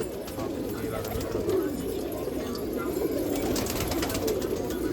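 Racing pigeons coo in soft, repeated low calls close by, blending into a steady bird chorus with faint background noise.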